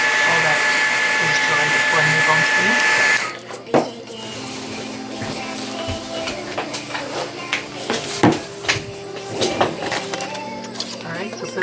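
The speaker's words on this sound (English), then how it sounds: "I'm going to hit this with the dryer real quick" A handheld hair dryer blows steadily for about three seconds as it dries ink on a mixed media collage, then cuts off, leaving quieter tapping, handling noises and a person talking.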